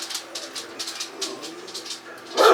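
A puppy whimpers and gives soft high yelps in a quick irregular series, fairly close, ending in a louder burst of barking, with no talking.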